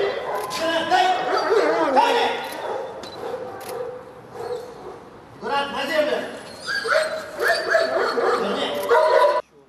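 Service dogs barking and yipping during head-on attack and detention training, with excited barks and whimpers in bursts under near-continuous talk.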